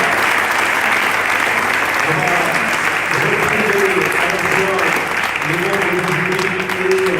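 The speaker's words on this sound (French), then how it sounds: "Je suggère des applaudissements à nouveau." Applause at a funeral-industry innovation award ceremony, a steady, loud wash of clapping that runs the whole time, with voices talking faintly underneath.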